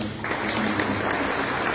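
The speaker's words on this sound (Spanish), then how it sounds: "Denle un fuerte aplauso al Señor." A church congregation bursts into sustained applause, a dense wash of many hands clapping at once, fairly loud and continuous from start to finish.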